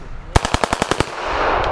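A Finnish anti-aircraft gun fires a rapid burst of about eight loud, evenly spaced shots over less than a second outdoors, then falls silent apart from a wind-like hiss.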